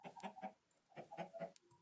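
Two short bursts of Minecraft Bedrock chicken clucking, three quick clucks each separated by a pause, clear and close with a quiet background.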